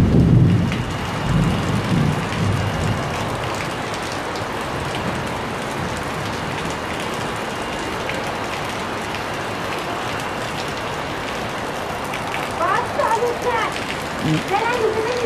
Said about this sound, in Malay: hujan lebat sebagaimana yang berlaku pada petang ini